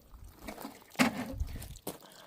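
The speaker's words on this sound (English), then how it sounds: "I'm just going to give them a tiny wee bit of water." A little water poured from a can onto potted plants at a small farm, a soft trickle with a brief splash, faint and close over quiet background noise.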